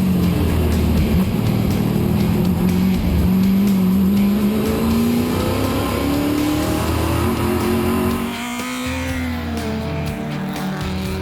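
Race car with a V8 and an 8-liter engine, battling a BMW M1 mid-engine sports car in a historic race, roars loudly at sustained high revs, climbing through the gears with a steady harmonic drone and a brief drop near the end.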